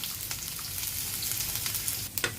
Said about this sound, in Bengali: এখানে আমি পেঁয়াজ কুচিগুলো দিয়ে দেবো, দিয়ে একটু নাড়বো।